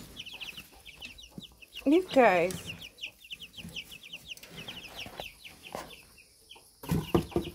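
Small pet bantam chickens from a mixed rainbow flock cluck and chirp close by in a coop, with a sharper squawk burst midway, while a person talks intermittently over them.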